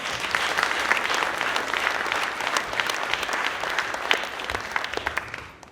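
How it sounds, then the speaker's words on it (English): An awards-event crowd of the Guyana Cultural Association gives a round of applause, a dense, steady clapping that swells early, carries on for several seconds, then tapers off toward the end. "Give them a round of applause."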